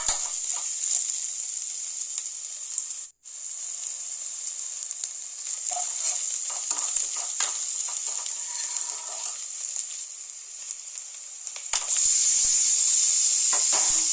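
Three tomatoes sauté in a pan as part of a goat liver curry, giving a bright, steady hiss. The sizzle breaks off briefly early on, then returns noticeably louder and harsher near the end, with no voices.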